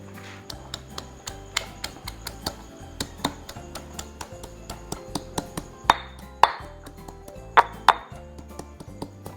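Coriander roots are pounded in a mortar with a steady run of close, sharp knocking strikes that grow heavier toward the end, with no voices.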